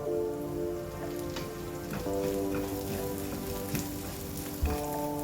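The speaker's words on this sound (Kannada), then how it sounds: "1 ಸ್ಪೂನು ಜೀರಿಗೆ ಮತ್ತು 1/4 ಸ್ಪೂನು ಮೆಂತೆಕಾಳು ಹಾಕಿ ಇದನ್ನು ಪುನಃ ಫ್ರೈ ಮಾಡುವ." Cumin and fenugreek seeds fry in a hot pan for a Mangalore-style chicken sukka, giving a continuous fine crackle like light rain, with scattered pops over sustained background music tones.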